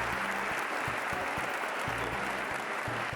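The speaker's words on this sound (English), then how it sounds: "can I get a little bit of an applause here?" An awards-show audience in the hall applauds continuously, dense and steady clapping throughout, with a low rhythmic music bed beneath.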